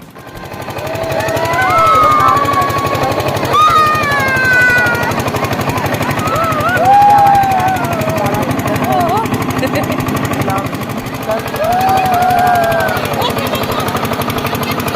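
Loud, continuous rattling drone of a motor boat engine running fast on a river, throbbing steadily throughout while people's voices and calls come through over it.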